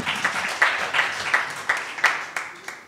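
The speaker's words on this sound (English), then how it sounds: "Let's clap for everyone now." An audience at a science forum applauding the speakers, rhythmic group clapping with evenly spaced accented beats over a wash of scattered claps that slowly thins out, with no talking.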